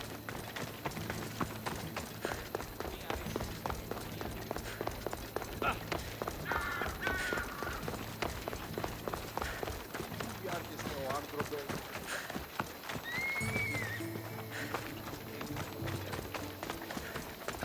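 Horse galloping in the video game Assassin's Creed Odyssey, a steady run of rapid hoofbeats mixed with game music and ambience, with a voice talking over it.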